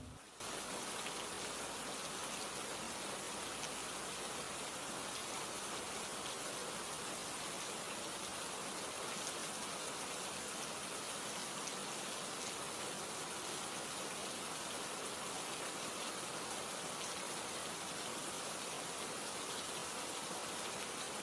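Torrential rain pours steadily over Murree, Pakistan, as a dense, unbroken hiss, loud and constant throughout with no voices.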